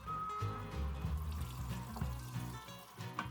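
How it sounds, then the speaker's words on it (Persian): Rice being gently washed by hand in lukewarm water for Persian kateh, with soft, close sloshing and trickling of water in a bowl, quiet and continuous with no talk. "برای شستن برنج من از آب ولرم استفاده می کنم و برنجم رو 3 بار می شورم"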